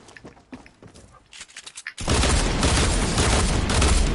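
Pistol shots ring out in the Fortnite video game: scattered light cracks at first, then a sudden loud, dense burst of rapid gunfire that continues to the end.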